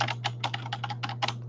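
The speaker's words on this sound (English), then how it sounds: "I decided not to mute the writing sessions so that the typing" Fast typing on a computer keyboard comes in close, crisp bursts of clacking keystrokes in quick clusters over a low steady electrical hum.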